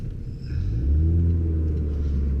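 A 2013-16 Ford Focus ST fitted with a COBB catback exhaust drives along a street, its deep exhaust rumble steady and close, swelling slightly louder after the first half-second and holding a low, even drone.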